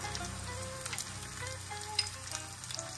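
Ginger-garlic paste and green chili paste fry in hot oil, giving a steady, soft sizzle with light crackles and small clinks from stirring.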